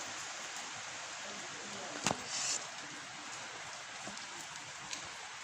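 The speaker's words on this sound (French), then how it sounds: "Regardez, ça pleut un petit peu." Soft, steady hiss of light rain falling during an August storm, with a brief louder patter midway; quiet and continuous throughout.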